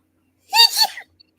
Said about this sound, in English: we hear your little sneezes